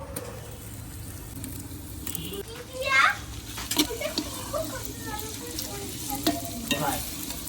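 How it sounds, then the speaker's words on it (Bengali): Ginger, garlic and chilli paste sizzles with fried onions in a pan at an outdoor winter family picnic, a steady frying hiss with stirring scrapes, under voices and children playing nearby. "এবার আদা রসুন আর লঙ্কার পেস্ট দিয়ে দেবো"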